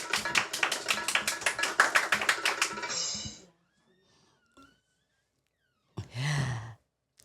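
A small crowd claps in a quick, steady rhythm for about three and a half seconds, then silence falls before a short burst of sound near the end.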